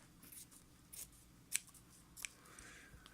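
Delicate scissors snip through the packaging of a boxed Moebius 1954 Hudson Hornet model kit, giving a few sharp, crisp cuts at close range against a quiet room.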